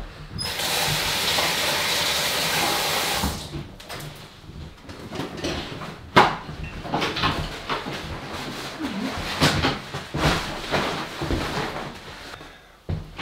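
Tap water running steadily onto hands at a kitchen sink during cooking after handling raw smoked haddock, a continuous broadband rush for about three seconds, then intermittent splashing and clatter as the flow is broken up.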